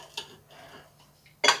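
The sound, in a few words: cutting a piece of vegetarian merguez with cutlery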